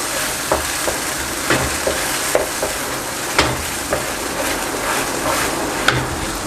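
White sauce being stirred into cooked chicken pot pie vegetables in a pan, a continuous bubbling sizzle broken by regular spoon scrapes and taps, and no talking.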